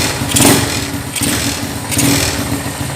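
A Honda GL100 motorcycle engine running after being started with a CDI ignition setup, a loud close uneven putter with periodic surges of revving over a steady idle rumble.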